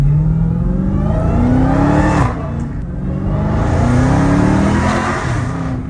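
A Dodge Hellcat Redeye accelerates hard in second gear, its supercharged engine roaring loud and close with rising pitch, briefly dropping at a shift before climbing again.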